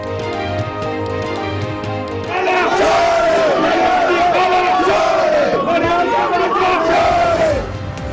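Opposition and government members in a Pakistani legislative session shouting slogans and scuffling, a loud continuous crowd roar of overlapping chanting voices that swells after a quieter opening and holds steady throughout.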